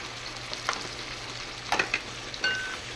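Marinated boneless meat frying in a pan with its marinade: a continuous, close sizzle broken by several sharp scrapes and clacks of a utensil stirring, with no voices.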